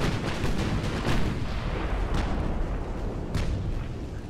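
Ammunition detonations aboard warships in Ultimate Admiral: Dreadnoughts roll together as a dense, continuous rumble of loud booms and crackling blasts, with a few sharper bursts standing out.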